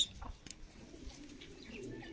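A pigeon coos faintly from a short distance as part of a hobbyist's pigeon collection, a soft low murmur over quiet background noise with a few light chirps and rustles, no talking.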